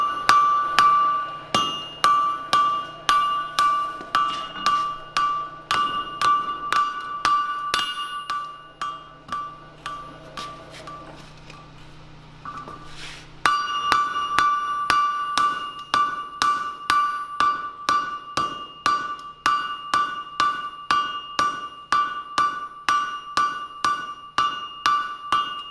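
Hot small steel stock is hammered on a blacksmith's anvil in a forging class, a steady run of bright ringing blows close by, broken by a short pause midway before the regular strikes resume.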